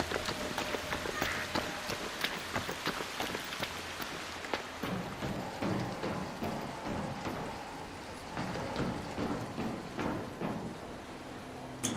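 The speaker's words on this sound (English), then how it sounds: "This place is so difficult to hear with the rain." Rain falls steadily, a dense constant patter of drops striking surfaces close by, with no voices over it.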